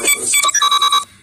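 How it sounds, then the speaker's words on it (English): A mobile phone ringtone rings close and loud as a quick run of bright, pulsing electronic tones that stops abruptly after about a second. "that's my phone"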